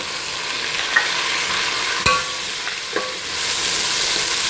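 Ginger, garlic and tomato sizzle and fry steadily in a hot pan, with a few sharp clinks of a utensil stirring against the metal.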